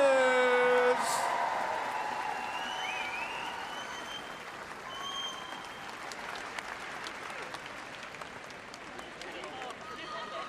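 A crowd at the Crufts 2024 flyball competition cheers and applauds loudly at first, then the clapping thins into scattered claps and murmuring over the following seconds, with a voice speaking briefly at the start.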